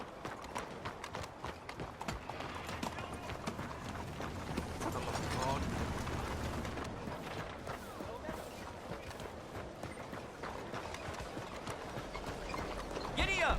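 Horse hooves galloping in Red Dead Redemption 2, a fast steady clip-clop of running hoofbeats throughout, with rider voices speaking over them.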